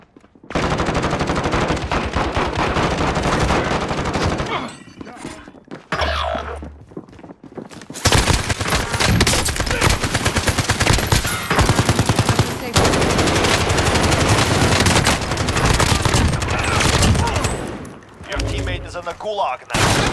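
Sustained bursts of automatic gunfire and heavy thuds from a Call of Duty: Modern Warfare match in the gulag, loud and dense for most of the stretch, with brief lulls and in-game voice callouts over the shooting.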